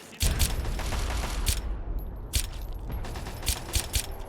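Gunfire from a Chinese sniper in the video game Fallout 3: a run of sharp shots with bursts near the start, mid-clip and toward the end, under rustling game ambience.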